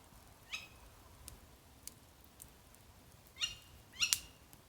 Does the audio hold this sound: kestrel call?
yes